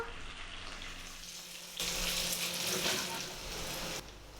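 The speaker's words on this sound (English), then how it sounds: "put them into the fry pan and cook until light brown" Plant-based patties fry in sesame oil in a pan, a soft sizzle that swells into a louder, brighter hiss midway before easing back.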